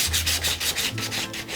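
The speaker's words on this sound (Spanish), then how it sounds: "le vamos a dar una pequeña lijada para eliminar cualquier arruga que se nos haya pasado" Light hand sanding over dried kraft paper, a steady series of soft rhythmic rubbing strokes, about six back-and-forth passes, close and fairly quiet with no voices.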